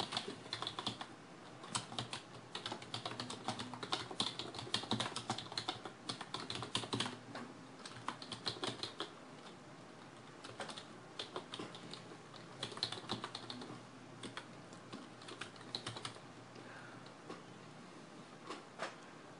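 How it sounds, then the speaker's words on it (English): Someone typing commands carefully on a computer keyboard while restoring a Galaxy Nexus phone to stock: soft, irregular clicky keystrokes in quick runs with short pauses, close and fairly quiet, with no talking. "Make sure you type in these commands very carefully."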